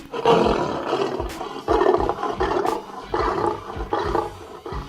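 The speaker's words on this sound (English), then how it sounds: "This is a lion." Recorded lion roaring from a voice assistant, a loud run of deep, rough roars and grunts repeating about every second, close and uninterrupted, with no speech.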